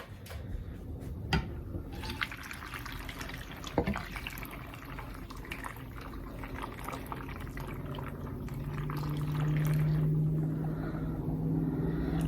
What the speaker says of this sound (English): So now I'm gonna add in some water.